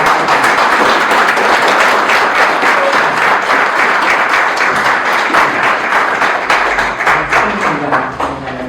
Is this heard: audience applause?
yes